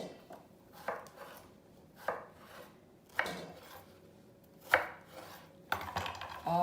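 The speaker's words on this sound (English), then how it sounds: "all of my squash is cut, and the most important part is they all are uniform in size" A knife chops yellow squash on a cutting board for ratatouille, sharp, separate thuds landing about once a second, each with a short woody knock, close and clear in a quiet kitchen.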